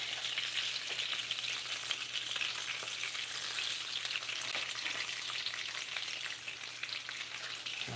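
Pasta sauce in a pan keeps up a steady, close crackling sizzle after the burner is switched off, dense and even throughout with no voices.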